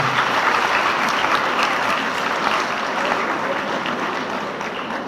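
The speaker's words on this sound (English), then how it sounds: "Let us clap." Audience clapping at a college congregation ceremony, a dense, loud, continuous round of applause that holds steady for several seconds and eases slightly toward the end.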